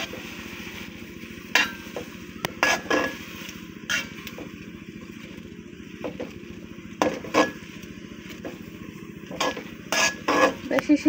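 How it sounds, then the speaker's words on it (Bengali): Radish greens being stirred in a frying pan over a low steady sizzle, with intermittent sharp scraping and clattering strokes of a spatula against the pan, in irregular bursts. "এবার একটু নেড়ে চেড়ে দিব।"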